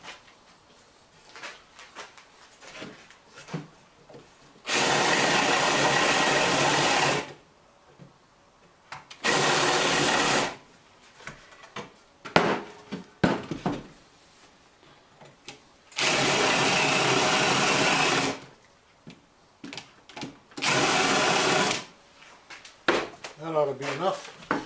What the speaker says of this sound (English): I need to countersink this other side too